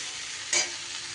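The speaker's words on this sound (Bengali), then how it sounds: "আরও একটু নুন এখানে অ্যাড করে দিলাম, দিয়ে ভালো করে সবজিটা নাড়িয়ে চাড়িয়ে নিলাম।" Mixed vegetables with potatoes, freshly salted, sizzle steadily in a hot pan as a spatula gives one quick scraping stir midway, close and fairly soft.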